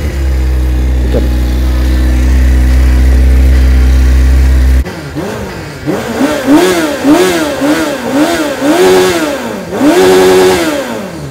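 A small motorcycle engine sputters to life after a steady idle hum, then revs repeatedly in rising and falling bursts, loud and close.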